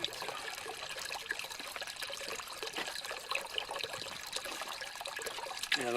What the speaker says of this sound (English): Close the lid so I can see your leak. And it leaks.